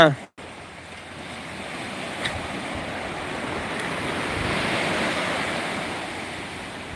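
Sea waves surging onto a beach at morning, a broad continuous wash of surf with wind buffeting the microphone, steady and fairly loud.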